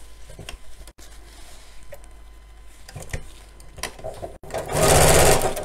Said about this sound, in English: I'm going to sew those in place first, purely so that I can take the pins out when I'm putting the lining in